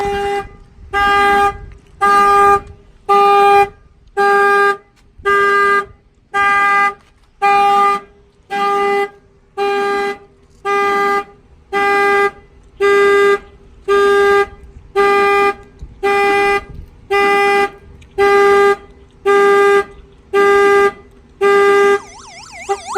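A Chevy Express van's car alarm blares alone at close range, a loud steady two-tone horn pulsing on and off in an even rhythm of roughly one blast per second for over twenty seconds.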